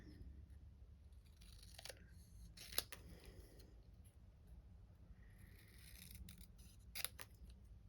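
Scissors cut through stamped paper card strips during a card-making craft session, giving a few soft, brief snips spaced apart over a quiet background.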